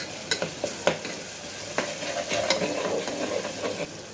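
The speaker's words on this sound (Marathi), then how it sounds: "दोन ते तीन मिनटं भाजून घेतला आहे कांदा" Onion fries in a pan for masale bhaat with a constant sizzle, while a spoon scrapes and taps against the pan in quick irregular strokes, loud and close.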